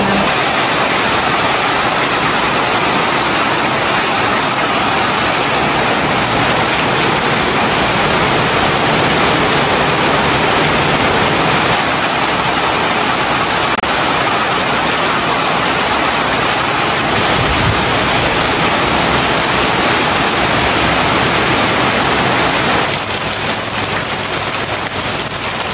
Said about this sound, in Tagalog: At nung pagkadating po namin ay umulan po ng napakalakas.